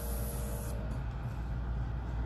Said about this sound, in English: Test out my spray.